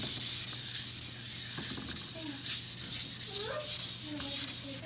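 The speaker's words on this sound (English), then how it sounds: "I'm gonna take a 600 grit little piece of sandpaper that I have here, and I'm just gonna sand it down." Fine 600 grit sandpaper rubs over chalk-painted furniture in quick, even back-and-forth strokes, a close, scratchy hiss pulsing in a steady rhythm.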